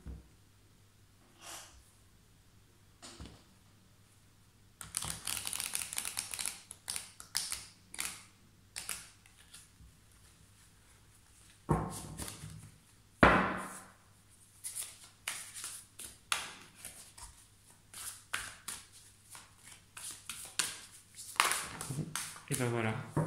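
Tarot cards being shuffled and cut by hand, close papery riffling and soft slaps in irregular bursts, with occasional breathing and faint background sounds.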